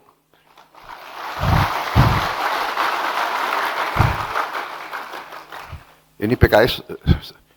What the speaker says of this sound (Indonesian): banyak juga tepuk tangannya ini